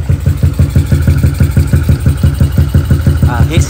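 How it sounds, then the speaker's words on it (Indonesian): A Yamaha Crypton motorcycle with an LC V1 exhaust runs close and loud, a rapid, steady, throbbing idle with an even pulsing rhythm throughout. "Kita bunyi exhaust je"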